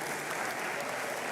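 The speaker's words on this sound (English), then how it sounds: "Please, a round of applause for him." Sustained applause rolls through the graduation hall at the Lagos Business School ceremony, a thick wash of many hands clapping at once, steady and moderately far.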